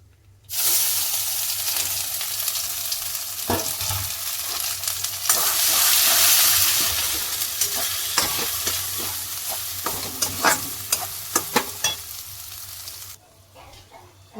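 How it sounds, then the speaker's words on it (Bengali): Green peas are tipped into hot oil in a wok for a sweet pea filling and burst into a loud, steady sizzle. The frying fades gradually as stirring clatters come through near the end, with no voices. "আগে কড়াইশুঁটিটা দিয়ে দিই"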